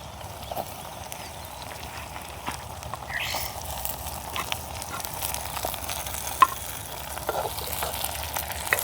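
Onion and green chilli sauté in a pan in a village kitchen, giving a steady low sizzle under scattered scraping and clinks from stirring at close range, with no talking.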